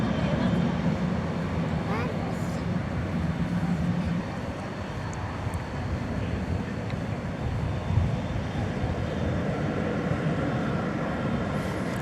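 An American Airlines Boeing 777 bound for Los Angeles rumbles at night at DFW Airport, a steady broad engine roar nearby that dips slightly partway through, with some voices in the background.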